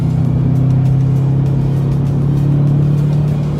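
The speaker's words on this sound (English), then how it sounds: "the sounds that this car makes, you just can't beat the four-banger Subaru Rumble" Steady low drone of a Subaru WRX hatchback's 2.4-liter turbo four-cylinder boxer engine while driving, a constant rumbling hum holding even throughout with no voices.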